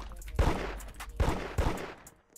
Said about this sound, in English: And I have this NPC shooting at me.